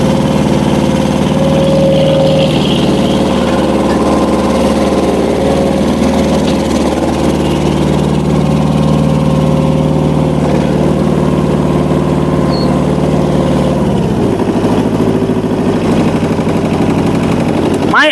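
A two-cylinder diesel engine on a farm machine at a Vietnamese agricultural machinery yard idles steadily and close by, a smooth continuous low rumble throughout, with the pitch dropping slightly near the end.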